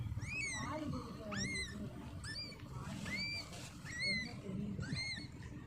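Newborn kittens with their mother cat give high, thin mews over and over in a steady, uneven series, close by, over a low murmur of voices and background rustle.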